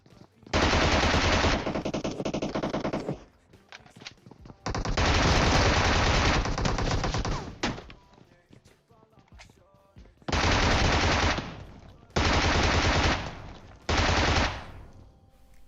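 Bursts of PP-Bizon submachine gun fire in the PUBG Mobile game, five loud sustained volleys of rapid automatic shots separated by short quiet gaps.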